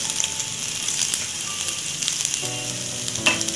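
Garlic and ginger pieces fry in hot oil in a pan, giving a loud, steady, close sizzle with occasional crackles and a few stirring clinks, no voices.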